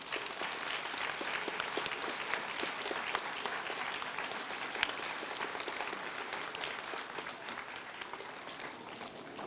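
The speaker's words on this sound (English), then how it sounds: "Students and staff, please give yourselves and those that came before us a round of much-deserved" Students and staff applauding at a school Blue Ribbon celebration, an even, sustained wash of clapping from a large crowd that holds steady without any speech.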